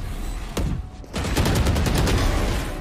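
Gunfire in a shooter video game: a single sharp shot, a brief pause, then a rapid burst of repeated shots that fills the rest, loud and close.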